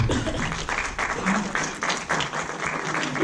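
Audience applause at a conference on the Nahuatl language of Veracruz, steady clapping from the crowd mixed with voices or cheering that rises and falls over a few seconds.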